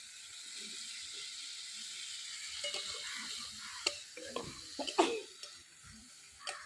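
Potatoes tipped into hot spiced oil in a village kitchen pan, a steady broad sizzle with scraping stirs and a few sharp clicks and clatters of utensils, close and moderately loud.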